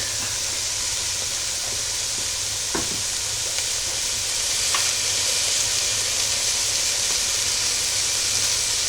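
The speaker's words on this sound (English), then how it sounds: "Now you will stir in 2 cloves of garlic minced" Minced garlic sizzles in a hot pot for lobster bisque, a steady frying hiss with faint stirring scrapes and no talk.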